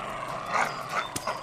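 Dogs bark and yip in a short, dense burst at moderate loudness, with bursts clustered close together and no voices in between.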